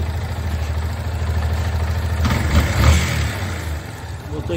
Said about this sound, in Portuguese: Motor em pleno funcionamento aí,